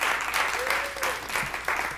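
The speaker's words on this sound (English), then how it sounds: "give our comedians a round of applause." Audience applause for a line-up of comedians at a comedy benefit show, steady clapping filling the room for about two seconds, with a faint voice briefly audible underneath.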